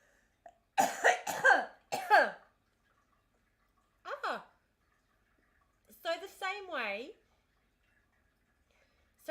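A person coughs in a few harsh, separate bursts with silent gaps between them, close and fairly loud, with throat-clearing sounds mixed in.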